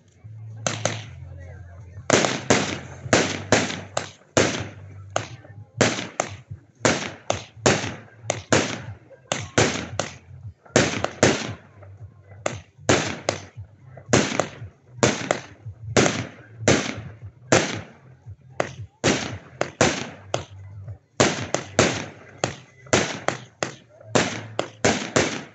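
A 36-shot firework battery fires a long rapid series of sharp bangs, dozens of shots in uneven bursts, loud and near, with brief gaps between clusters.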